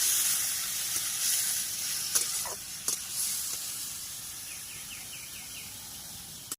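Grated cucumber and prawns cooking in a hot pan with cumin, bay leaf and dried red chilli, giving a steady close hiss and sizzle with a few faint clicks and taps.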